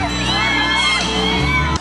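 Thousands of fans at an outdoor concert stage show scream and shriek loudly and continuously as celebrity performers come out one by one, a dense wall of high cheering and whooping.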